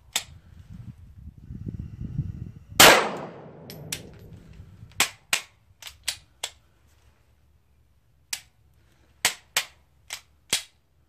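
Pistol fitted with a 4.5 lb striker spring firing Federal factory ammunition: one loud sharp shot, then a string of crisp clicks or cracks spaced unevenly, alone with no voices.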